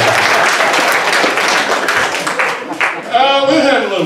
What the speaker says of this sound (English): I normally get a little applause when I introduce myself